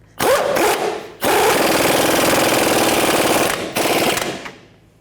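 An impact wrench hammers on a rear shock absorber bolt of a 2002–2005 Ford Explorer, loud, close rattling bursts: a short burst, a pause, then a long sustained run and a final shorter burst.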